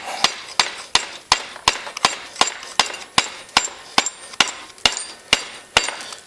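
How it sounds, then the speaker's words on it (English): A hammer handle taps a rear axle down into the swingarm of a Honda Recon 250 ATV, about fifteen sharp, evenly spaced knocks at a steady rhythm, close and moderately loud with nothing else behind them. "I was hitting that with the handle of the hammer"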